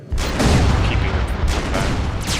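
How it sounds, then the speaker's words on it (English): Guided missiles launch and detonate in the real-time strategy game AirMech, a dense, continuous barrage of loud overlapping blasts and booming explosions with repeated whooshing bursts, sustained at steady high volume throughout. "These guided missiles help keeping them"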